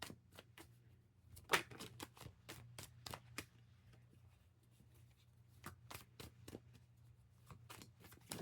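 Tarot cards being shuffled close up, a long run of quick riffling snaps and soft slaps in an irregular rhythm over a faint background hum.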